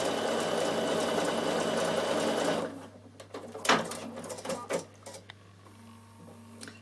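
A Bernina sewing machine with dual feet runs a stretch stitch through stretch fabric, whirring steadily and loud for under three seconds, then stops, followed by scattered clicks and handling noises over a low steady hum.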